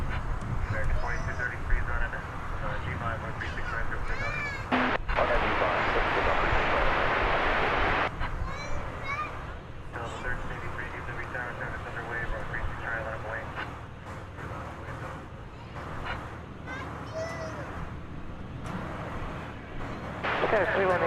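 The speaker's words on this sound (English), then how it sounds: "Spirit Airlines Flight 2520 is going to San Jose. And we shall endeavor to bring you its departure." A Spirit Airlines jet heading to San Jose departs DFW Airport, its engine roar swelling loud for several seconds amid a broad rushing noise, while radio chatter and talking voices continue around it.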